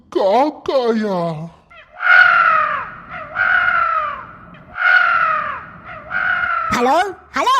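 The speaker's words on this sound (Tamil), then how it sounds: "காக்காயா?" A cartoon crow caws in repeated harsh, drawn-out calls, about four loud bursts in close succession, with brief speech-like vocal sounds at the start and end.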